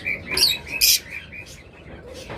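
A pair of budgerigars, a split opaline female and a visual opaline male, give bright short chirps and tweets, close up, several quick calls in the first second, then fainter chatter.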